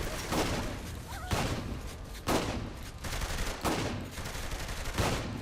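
Video-game gunfire with flaming bullets crackles in repeated bursts, sharp shots arriving roughly every second over a dense, noisy background.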